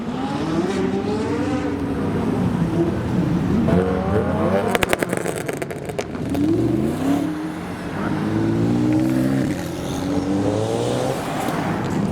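A modified Audi RS4 pulls away from a supercar rally start line in London, its engine revving in rising and falling sweeps, fairly close and loud, amid other idling and passing cars.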